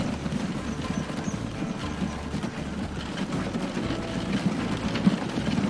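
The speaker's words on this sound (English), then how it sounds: "let's just speed up time a little bit and watch the horse-drawn carriages go" Horse-drawn carriages clip-clop steadily through the Transport Fever 2 railroad tycoon game, a continuous low rhythmic clatter of hooves and wheels with faint engine-like rumble, no talk over it.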